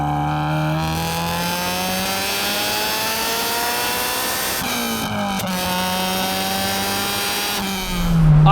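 A Honda Civic EG6 with a B16 VTEC engine and light flywheel revs hard and loud, holding a high harsh tone, dropping briefly and climbing again in a sustained close-up wail with no talking.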